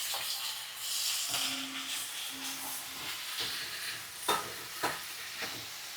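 Brinjal pieces frying in hot oil in a pan give a steady, close sizzling hiss, with a few sharper stirring clatters near the end.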